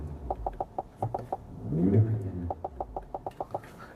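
An MG Hector's infotainment system plays simulated exhaust crackle, a quick series of sharp pops and bangs, broken by a short revving burst in the middle, fairly close and loud.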